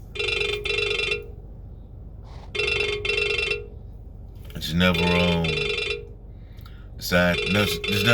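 A telephone rings in repeated bursts separated by pauses, with someone speaking between the rings.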